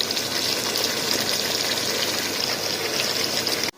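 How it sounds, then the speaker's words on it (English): Water pours steadily into a pot of okra and beef stew, a continuous gushing flow that carries on unbroken for several seconds before cutting off abruptly, with no voices. "I need to add more water."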